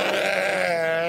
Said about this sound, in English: some sheep sound effects